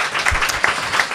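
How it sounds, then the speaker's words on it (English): Audience applause after a startup pitch feedback session, a brief burst of many hands clapping at moderate loudness, fairly dense and steady. "Big round of applause"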